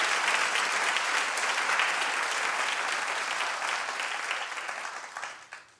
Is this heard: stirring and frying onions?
no